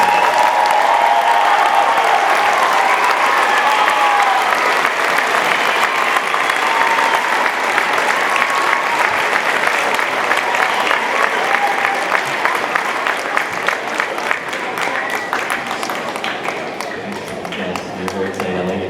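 A middle school winter concert audience gives sustained applause, dense and loud for the whole stretch, with a faint murmur of voices underneath as the clapping thins slightly toward the end.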